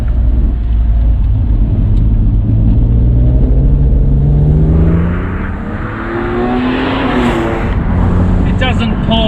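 BMW Z4 M Roadster engine pulls hard from inside the car, a loud, close roar rising steadily in pitch as the revs climb, easing briefly before building again toward the top of the range.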